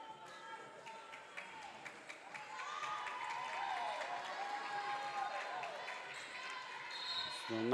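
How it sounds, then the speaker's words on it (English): Fans at an NAIA college volleyball match between KCU and Johnson clap and cheer through a long stretch of steady applause in a gym, with crowd noise and some talk mixed in. "fans here applauding their effort"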